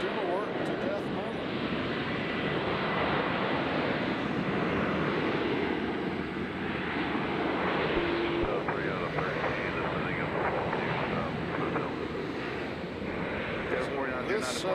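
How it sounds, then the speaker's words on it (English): A WestJet airliner bound for Vancouver rumbles steadily at Nashville airport, a broad continuous engine roar mixed with wind noise on the microphone, with no clear rise or fall. "This WestJet headed to Vancouver."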